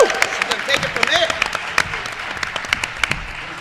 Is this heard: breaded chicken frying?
no